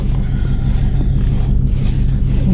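A 2020 Shelby GT350 with its 5.2 liter Voodoo V8 pulling away, a deep continuous engine rumble heard from inside the car, loud and steady with wind and road noise.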